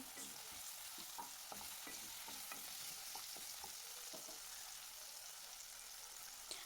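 Potatoes fry in a little oil in a pan over a low flame, a steady soft sizzle with occasional stirring clicks and scrapes, close and fairly quiet, no talking.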